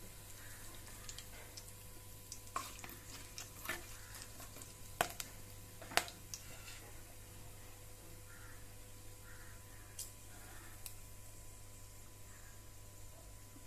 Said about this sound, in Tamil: பட்டை பொரிஞ்சிடுச்சு